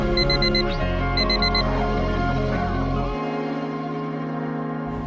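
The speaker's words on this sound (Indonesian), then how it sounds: "Alarm berbunyi berkali-kali" An alarm clock beeps in quick repeated bursts over a musical background, which then shifts to a steady sustained tone near the end.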